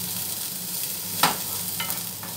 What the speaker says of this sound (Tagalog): Haluin ang ating bawang.